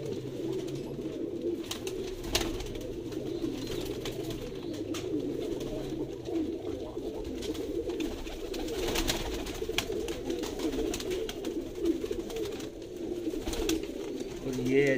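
Pigeons coo softly and continuously in a loft or coop, a low murmuring chorus with a few occasional sharper knocks and rustles, while someone talks over them.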